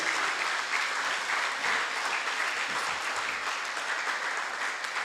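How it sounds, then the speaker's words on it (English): Sustained applause from an audience at a reading clinic opening ceremony, steady clapping throughout without a break. "Give us all a round of applause, everybody, please."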